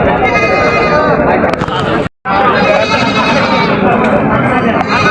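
Goats bleat at the Tebaria livestock market in Natore, loud wavering cries that repeat close by over a constant murmur of people talking in the crowd.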